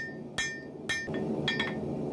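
Hammer blows on a steel sword guard over an anvil while forging a spoon-shaped knuckle bow, a few sharp ringing strikes spaced irregularly, close and loud, with workshop noise between.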